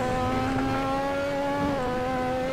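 A Lotus 98T Formula One race car in Assetto Corsa, its engine a loud, steady, high-pitched turbo drone that climbs slightly and dips on a downshift, heard alone.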